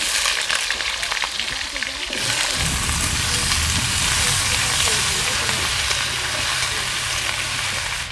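Potatoes dropped into hot mustard oil with cumin and bay leaf in a kadai, a hiss that surges into a loud, dense, crackling sizzle midway, continuing close and steady.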